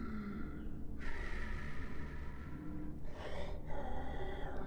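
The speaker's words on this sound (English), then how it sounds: "I hear breathing." Raspy breathing and a sharp gasp from a creature in the kitchen of the video game Little Nightmares, set in a dense, noisy game soundscape that stays steady and fairly loud for several seconds.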